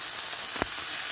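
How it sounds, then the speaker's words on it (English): Mushrooms frying in butter and olive oil give a steady close sizzle with one brief louder pop or hiss partway through. "frying mushroom"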